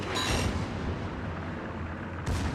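Warship secondary guns fire in World of Warships: two heavy, booming blasts, one at the start and another near the end, with a rumbling, noisy wash between them.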